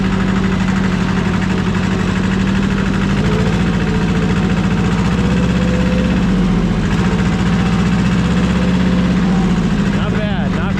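An old tractor engine runs steadily in high third road gear, a loud, constant low rumble with an even mechanical throb across the whole stretch, with no pauses.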